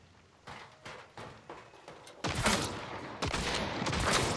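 Shotgun buckshot fire in a video game, with several sharp blasts ringing out in close succession, getting louder and denser toward the end, with no talking.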